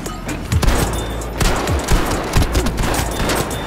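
Dense, continuous gunfire in a Battlefield 5 match: rapid overlapping shots and bursts crackle loudly throughout with a low rumbling backdrop, and a faint voice is in the mix.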